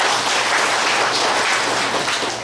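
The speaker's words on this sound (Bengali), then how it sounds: "আমরা এসকেএস ফাউন্ডেশনের জন্য একটা তালি দিতে পারি" Audience applause at a Bangladeshi launch event for a pension scheme, a dense steady wash of many hands clapping that stays loud throughout and tapers slightly at the end, with no talk over it.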